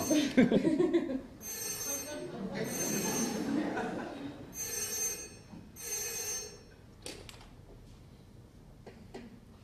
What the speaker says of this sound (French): Esclave, répondez, on vous sonne.